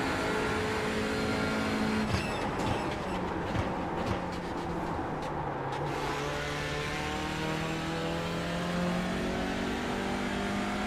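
A race car engine in the Le Mans Ultimate sim racing game drones loudly and continuously, with rising and falling revs through gear changes and a burst of rattling clatter partway through.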